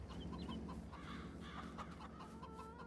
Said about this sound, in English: the chicken is doing very well